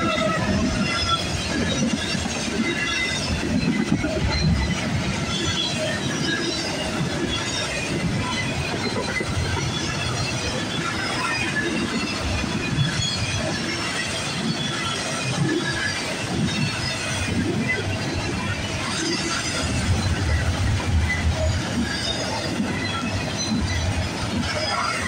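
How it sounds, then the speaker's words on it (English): An eastbound CSX intermodal freight train led by one engine rolls past with a steady loud roar and rumble of wheels on rails, continuous throughout, with occasional faint voices underneath. "we got a CSX train coming down the line"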